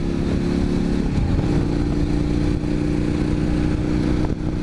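A KTM 1290 or Indian FTR 1200 big V-twin motorcycle pulling in top gear from around 40 to 50 mph, a steady loud engine drone with wind rush holding throughout.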